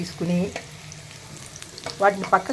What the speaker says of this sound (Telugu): కాకరకాయ ముక్కలు వేసుకుని వేయించాలండి. తిప్పాలి.